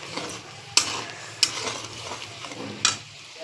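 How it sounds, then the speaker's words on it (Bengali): Spice paste with ginger-cumin paste sautés in a pan for a yogurt fish curry, a constant sizzle punctuated by three crisp metallic clinks of the spoon against the pan. "মশলাটা একটু কষিয়ে নিই ভালো করে"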